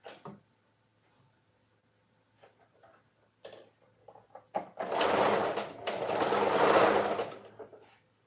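Sewing machine stitching a tote bag: a few soft clicks and taps, then a loud, rapid mechanical chatter of stitching for about two and a half seconds before it slows and stops.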